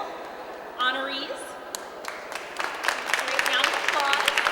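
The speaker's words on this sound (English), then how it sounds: "Great round of applause." Applause for middle school honorees at a school recognition event builds from scattered claps into steadier clapping from a modest crowd, moderately distant and growing fuller toward the end.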